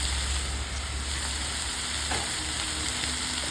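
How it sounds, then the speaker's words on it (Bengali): Curry leaves fry in hot oil with a steady, fairly loud crackling sizzle while being stirred around the pan, one brief scrape partway through, with a faint low hum underneath. "কারি পাত্তা নেওয়া হয়েছে এটাও দিয়ে দিলাম একটু নাড়াচাড়া করে একটু লাল লাল করে"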